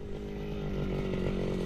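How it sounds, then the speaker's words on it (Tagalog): Grass cutter running in a rice field, a steady, loud, buzzing small two-stroke engine drone held close and constant throughout. "mag-grass cutter na tayo"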